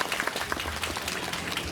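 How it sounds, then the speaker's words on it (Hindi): An audience of devotees applauds steadily at a religious gathering in heavy rain, a dense patter of many hands clapping at once, fairly close and even throughout. "आप सभी के लिए एक बार तालियां बजा देंगे"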